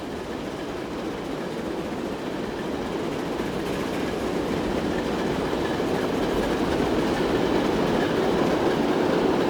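A passing train in the rail simulation game Transport Fever 2 rumbles steadily with a continuous clickety-clack of wheels that grows slightly louder, with no talking.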